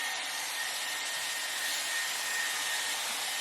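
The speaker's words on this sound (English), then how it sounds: "I'm blow drying away from my face" A Dyson Airwrap styler blow-drying hair runs as a steady, loud, close airflow roar with a faint high whine, unbroken for the whole stretch and with no voice over it.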